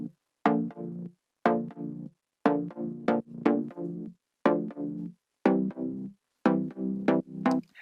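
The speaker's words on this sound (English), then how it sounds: "Has a really nice attack, and there's a little bit of distortion to it" A gritty, sharp synth chord with a fast attack and slight distortion, programmed in FL Studio for a deep house track, stabs in a repeating rhythmic pattern of short bursts with gaps between, clear and alone.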